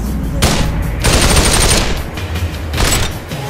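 Bursts of rapid automatic gunfire from Population: One come in three loud volleys, each lasting under a second, with short quiet gaps between them.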